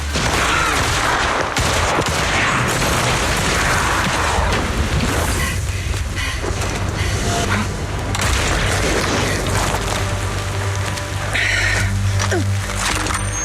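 Sniper rifle fire in the video game Zenless Zone Zero booms through a dense, noisy action scene, with several heavy shots and blasts scattered over the stretch amid continuous combat effects.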